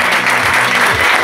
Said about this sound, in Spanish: que le brindemos un fuerte aplauso por estar esta noche